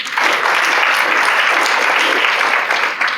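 A Rotary meeting audience claps steadily for a speaker arriving at the podium, a dense, even wash of applause with no pause.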